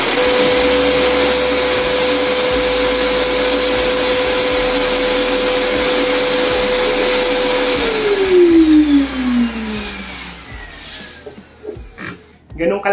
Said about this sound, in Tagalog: Ganong kalakas at ganun kabilis mag-suck ng sawdust yung ating PowerHouse vacuum cleaner.